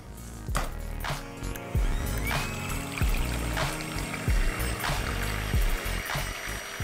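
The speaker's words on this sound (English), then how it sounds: "now we are going to whisk the egg whites, and we're going to whisk them to stiff peaks" An electric hand mixer whisks egg whites toward stiff peaks for a Black Forest layer cake, a steady motor whir with rhythmic beating and clinking against the bowl, close and continuous throughout.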